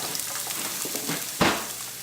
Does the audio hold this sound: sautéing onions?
yes